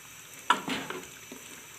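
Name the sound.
tomatoes cooking and softening in a pot for beef biryani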